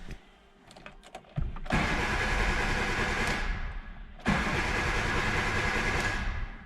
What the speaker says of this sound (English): But the car won't start.